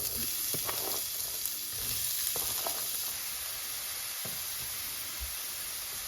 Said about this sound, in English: First, we're gonna add our onions.